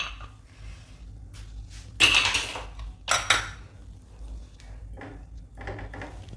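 A pressure cooker of cooked wheat for kheer is opened in a kitchen: scattered metallic clanks and scrapes, with two louder hissing, clattering bursts near the middle, all close and without talk.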